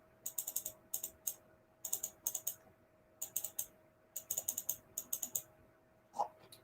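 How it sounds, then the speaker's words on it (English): Keys clack on a computer keyboard while a name is typed into design software, in quick close bursts of keystrokes separated by short pauses, with no talking. "right now I'm just typing my daughter's name"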